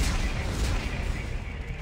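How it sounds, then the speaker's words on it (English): Explosives detonate in a brief, loud, sustained rumbling blast that fills the whole moment, with no clear separate bangs. "Computer, arm explosives."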